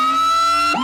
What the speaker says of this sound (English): one of those pulsating sirens